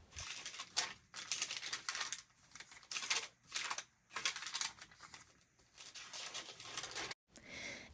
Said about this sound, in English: the sound of the crinkly paper is heaven